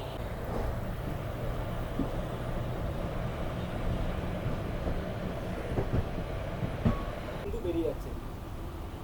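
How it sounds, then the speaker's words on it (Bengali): A train pulls out of Puri railway station, its low rumble and wheel clatter rolling on steadily with faint knocks and a brief squeal, while people talk in the background. "আমার ট্রেন ছেড়ে দিল পুরী রেলওয়ে স্টেশন থেকে।"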